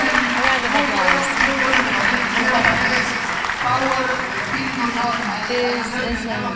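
A conference audience at a Bitcoin event claps after a panel, with steady applause running throughout while voices talk and call out over it.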